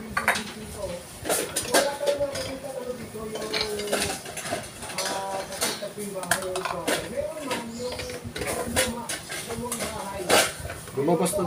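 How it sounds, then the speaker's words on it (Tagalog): Ingredients for chicken biryani sautéed in a heated pan, with a metal utensil clattering and scraping against the pan in frequent close knocks over a sizzling bed, while a person talks throughout. "Luto na siya, niluto ko na nung una. Ayun, gigisa na natin."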